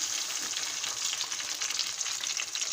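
Onion and tomato sauce fries in hot oil for a fish curry, making a continuous, even sizzling hiss with no talking.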